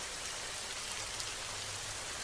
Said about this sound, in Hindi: बारिश तो रुकने का नाम ही नहीं ले रही थी